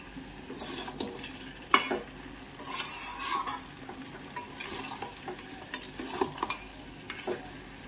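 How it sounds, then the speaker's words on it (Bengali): Ground garam masala being stirred into browning mutton in a pan for Kashmiri rogan josh, a spatula scraping and clinking steadily against the metal over a continuous sizzle and frying crackle, close and alone. "এবার এই যে গরম মশলাটা বেটে রেখেছিলাম সেটা আমি দিয়ে দিলাম, দিয়ে আবার ভালো করে মিশিয়ে নেব।"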